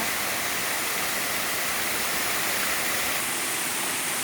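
Rain-swollen water pouring over a full dam, a loud, continuous roaring rush with no breaks and no voices.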